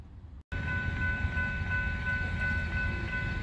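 A northbound Florida East Coast Railway freight train pulls out of New Smyrna Beach Yard on a Sunday morning, giving a continuous low rumble with a steady tonal whine over it, unbroken after a brief gap at the start.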